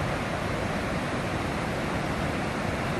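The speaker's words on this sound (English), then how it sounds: "What an awesome waterfall." Waterfall in the Smoky Mountains, hidden behind trees, making a steady broadband roar of falling water that holds even and fairly loud throughout, with no voices over it.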